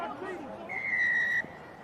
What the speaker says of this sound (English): referee's blowing his whistle